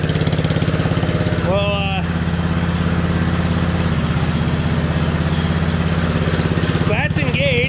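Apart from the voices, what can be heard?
Economy Power King tiller engine running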